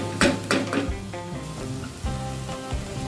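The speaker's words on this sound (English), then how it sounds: "Continue to saute to allow the leek to reduce." Leeks sautéing in a pan for leek and potato soup, a steady close sizzle with a few sharp stirring clatters early on and faint tonal kitchen noise underneath.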